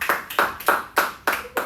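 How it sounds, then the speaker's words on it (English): Six evenly spaced sharp claps in a classroom math lesson, crisp and close, in a steady slow rhythm with no talk over them. "Clap."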